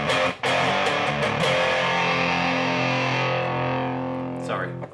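Electric guitar played through a GuitarPCB Hot Chilicon Fuzz pedal with the gain raised, giving a loud, thick distorted chord that rings out and slowly decays, briefly cut once near the start.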